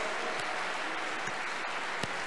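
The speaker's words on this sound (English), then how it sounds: "Give God a very big clap offering." Church congregation clapping as an offering during a testimony service, a faint, steady wash of many hands with a few sharper claps standing out.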